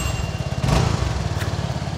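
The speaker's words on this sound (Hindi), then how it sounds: "ये मोटरसाइकिल स्टार्ट हुई और सुजुकी की मोटरसाइकिल बहुत ज़्यादा स्मूथ होती हैं" A Suzuki Gixxer motorcycle idles steadily after starting, its smooth engine putting out an even low pulsing throb with a brief louder swell early on, heard close and alone.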